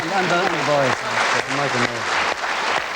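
A television studio audience applauds with steady, dense clapping throughout while someone speaks over it.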